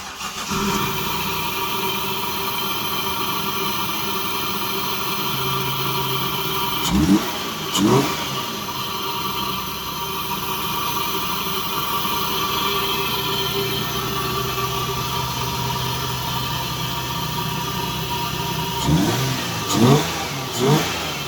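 A Toyota 1JZ/2JZ engine runs after an ECU repair, idling steadily with a humming drone, broken by two short bursts of revving near the start and again near the end.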